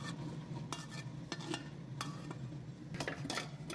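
A spoon stirs sugar syrup into boiling gram lentils for halwa in a metal pot, giving soft scraping and occasional clinks against the pan over a low bubbling sizzle, with no talking.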